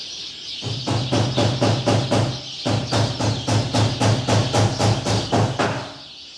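Fast, steady chirping pulses repeat in long runs with a short break midway, loud and near, no talking.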